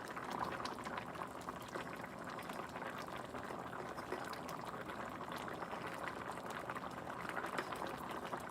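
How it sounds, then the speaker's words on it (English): Gravy thickening in a pan bubbles steadily and faintly with a continuous soft popping simmer and no voices over it. "See that bubbling? That means your gravy is thickening."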